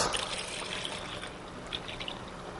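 Skim or whole milk poured into lightly whisked eggs for dessert crepe batter, a steady soft liquid trickle and splash running continuously for a few seconds at close range, with no talking.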